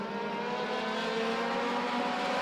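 Race cars at the short-track World Short Track Championships, FWD/Hornets class, roar hard off the green flag, a dense, loud, continuous engine drone with layered revving tones and no talk over it.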